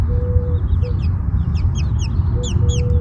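Rhode Island Red and Speckled chicks, about four to five weeks old, peep and cluck in short repeated chirps close by over a low steady background rumble.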